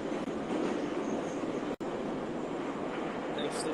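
Steady roar and rattle of a moving metro train heard from inside, loud and continuous, with one brief dropout midway and a faint squeal near the end.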